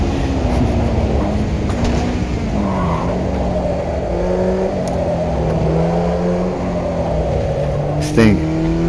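A Formula 1 junior race car engine in a racing video game drones steadily on a dirt track, its pitch sliding up and down with throttle changes through the whole stretch, with a brief sharper burst near the end.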